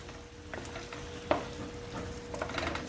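Bulgur is stirred with sauce in a pan for a Turkish semiz aşı dish, with a soft sizzle and a few scraping stirs and clinks of a utensil against the pan, close and fairly quiet.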